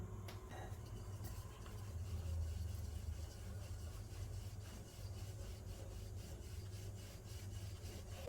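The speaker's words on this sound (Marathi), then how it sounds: "आता याला आपण छान लाटून घेऊया" A rolling pin rolls out gulpoli, a jaggery-filled flatbread dough, in a soft, continuous rubbing and scraping with faint repeated strokes, quiet and close, with no speech.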